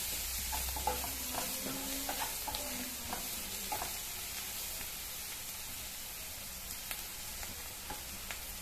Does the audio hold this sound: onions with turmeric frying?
yes